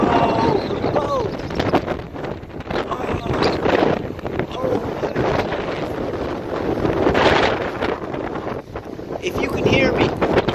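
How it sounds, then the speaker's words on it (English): Heavy thunderstorm winds over Dauphin Island, Alabama, roaring and buffeting loudly against the microphone in continuous gusts, with a voice talking beneath the noise. "Oh, what a storm. What an electric storm."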